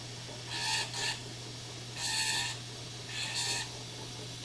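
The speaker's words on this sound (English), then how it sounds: "you can take one of these burrs, troncoconical burrs, and go very, very slow" A slow-speed dental trimming burr with a troncoconical tip grinds acrylic on a complete denture in three short bursts, a faint rasping whir over a steady low electrical hum.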